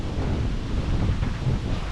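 Strong wind roars and buffets steadily, a dense continuous rush without pause.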